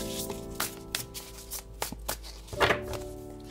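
Tarot cards being shuffled and drawn during a reading, a run of quick papery riffles and soft taps over a steady humming musical background, with no voice.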